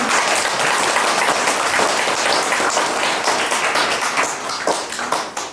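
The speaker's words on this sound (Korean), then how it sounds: "다시 한번 정말 큰 박수 부탁드릴게요" Seminar audience applauding at a financial counseling center event, a dense sustained wash of many hands clapping that fills the room and tapers slightly toward the end.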